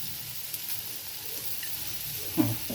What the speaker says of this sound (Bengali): মেথিটাকে ভেজে নেব